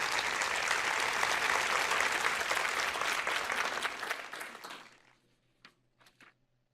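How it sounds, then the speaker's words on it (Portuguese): Church audience breaks into applause, a dense steady clapping for about four seconds that then tapers off quickly, leaving a few last scattered claps in near silence. "eu não me importaria se alguém aplaudisse isto"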